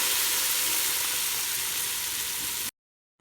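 Vermicelli frying in a pan for carrot semiya, a steady loud sizzle close up that runs unbroken for nearly three seconds and then cuts off abruptly.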